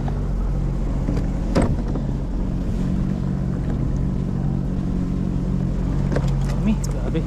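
A Sea-Doo jet ski engine runs steadily at sea during a fishing trip, a close, loud, constant low drone throughout, with someone talking over it.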